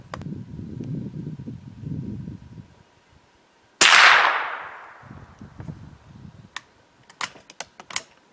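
A .22 caliber bolt-action rifle fires a single sharp CCI Long round that rings out and decays, followed by a series of light mechanical clicks as the bolt is worked. There is a quiet rumble before the shot.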